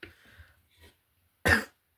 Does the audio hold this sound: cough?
yes